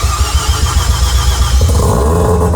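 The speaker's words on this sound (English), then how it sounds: "So not only do we get to hear the exhaust" Rebuilt Mazda RX7 rotary engine firing up through a new exhaust, loud and close, a rough burbling idle that swells into a revving blip toward the end.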